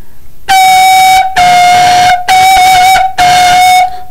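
Four breathy, steady notes on a kawala, an end-blown flute, played with the lower finger holes closed, each held about a second with short gaps between, loud and close with no talking.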